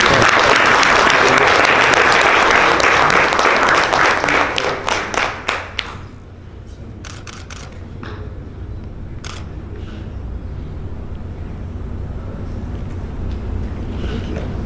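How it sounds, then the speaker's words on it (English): A crowd at a formal handover ceremony to the Guyana judiciary gives a round of applause, loud and dense at first, then thinning to scattered claps before fading into room noise. "We are allowed a round of applause."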